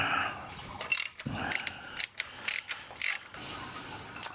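A hand ratchet clicks in short rapid bursts while bolts are backed out of a Foxbody Mustang's front end, several separate clattering runs with pauses between them, close and fairly loud, with no talk over it.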